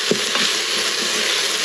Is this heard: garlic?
yes